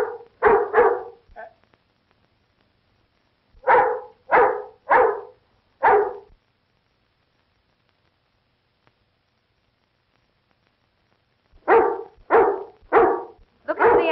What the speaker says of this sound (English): Now, say, here's a watchdog.